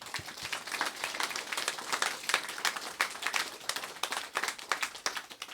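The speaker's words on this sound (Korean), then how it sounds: "그런 의미에서 우리 박수 한번 쳐줘요." A church congregation applauds together, a dense and steady patter of many hands clapping at moderate level that continues throughout without pause.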